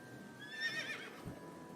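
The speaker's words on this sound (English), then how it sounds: "It made a horse noise." Horse-like whinny from a panda ride in Ai: The Somnium Files, a single short, faint neigh with a wavering high-pitched whinny, followed by a soft thump.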